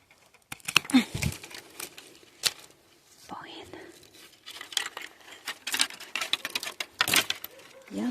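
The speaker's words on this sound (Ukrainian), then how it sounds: "Обрізаю оцей паньок і обрізаю оцей." Hand pruning of grapevine shoots in a garden plot, giving scattered sharp snips and clicks with rustling leaves and stems, close by and irregular, with occasional soft voice sounds between cuts.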